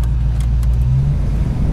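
A 1991 Ford Mustang GT convertible, a Fox body, has a loud, steady exhaust drone that holds at a constant low rumble throughout. There is no clear rev rise. It is heard up close and with no talk over it.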